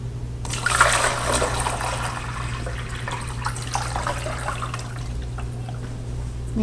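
Water pours and trickles steadily while the pump of a groundwater model is primed, a continuous close splashing flow over a low electrical hum, with no talking.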